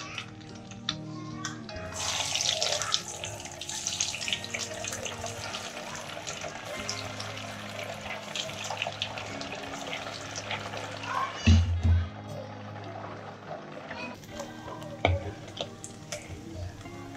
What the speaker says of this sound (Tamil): நான் இப்போ இதை ஒன்று ஒன்றா ஃப்ரை பண்ணிக்க